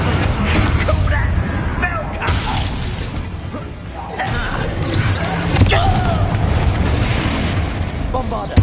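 Spell blasts from Bombarda and similar magic in the video game Hogwarts Legacy: repeated crashing, shattering booms and thuds over dense game effects, loud and continuous, with speech mixed in.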